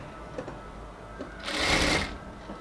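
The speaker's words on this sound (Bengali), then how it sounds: "ব্লাউজের গলার উপরে আর ভেতরের অংশের কাপড়টার উপরে সেলাইটা হচ্ছে।" A sewing machine stitches along a blouse neckline through the outer and inner fabric layers, giving one short, close burst of rapid whirring stitches amid quiet room tone.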